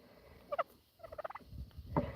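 Turkeys foraging on a homestead let out short gobbling calls, a few close bursts of warbling clucks separated by brief pauses.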